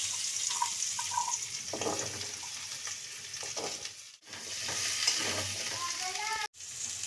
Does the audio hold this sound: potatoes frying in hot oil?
yes